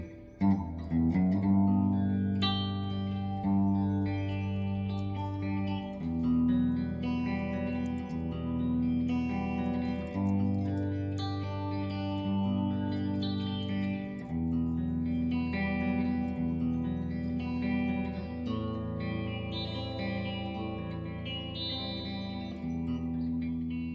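A Gibson Les Paul electric guitar with coil splitting, played on the middle pickup position through chorus and echo effects, rings out in sustained chords and melodic notes, loud and alone.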